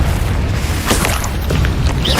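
A Confringo spell detonating in Hogwarts Legacy, a dense, loud rumbling boom with crackling debris and burst textures layered through a continuous wash of game noise, no voice present.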